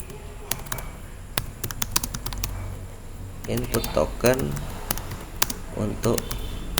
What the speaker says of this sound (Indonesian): Pada pertanyaan ketikkan seperti ini